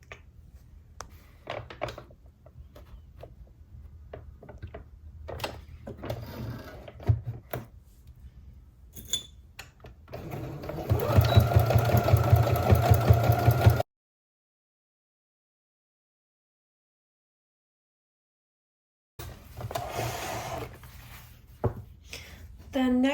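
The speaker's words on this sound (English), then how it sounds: "with a 1 centimeter seam allowance, I'm gonna sew and connect here" A sewing machine stitches a seam with a 1 centimeter allowance on a top, a close steady mechanical hum lasting about three seconds, cut off abruptly, with soft handling clicks and thumps before and after.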